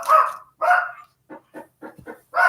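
A pet dog barks indoors, sounding loud and close with two long barks, a run of shorter yips and whimpers, then another full bark.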